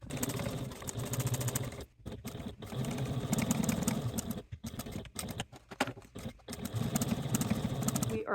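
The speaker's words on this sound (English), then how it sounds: "Are done top stitching our slip pockets to the lining pieces" Sewing machine top stitching a fabric slip pocket onto a lining piece for a knitting project bag, with steady close runs of stitching broken by several short pauses.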